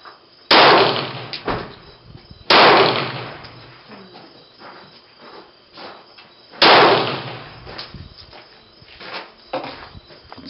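Three sharp, loud Glock pistol shots fired at a target, spaced unevenly and each followed by a short decaying echo, with faint handling noises between them.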